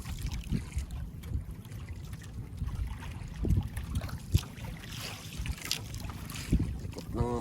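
A small fishing boat turns on a choppy sea in strong wind, its low engine rumble and water slapping against the hull mixed with gusty wind buffeting the microphone and occasional knocks.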